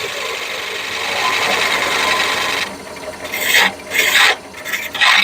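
A steady scraping hiss of a skew chisel tapering wood spinning on a lathe, then several short, loud rasping bursts with gaps between them, close up.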